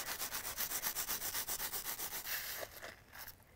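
Wet, liquid concrete is smoothed by hand in a figure-of-eight paver mould with quick forward-and-back strokes, making a rhythmic, close scraping and rubbing that fades out near the end.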